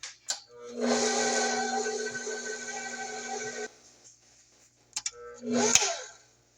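An electric mixer whirs steadily for about three seconds, beating sweet potato pound cake batter with a humming drone, then stops, followed by brief clinks and a short second burst of mixing.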